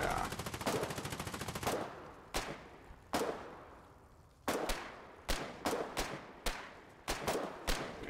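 Rapid bursts of machine-gun fire from frontline fighting in the war game Foxhole, close and loud, with sharp individual shots and several repeated bursts separated by brief pauses.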